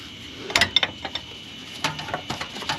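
Ratcheting wrench clicks in short bursts as it turns a fitting on the low-side power steering line of a 2003 Grand Prix GTP, with sharp close metallic ticks and brief pauses in a tight engine bay.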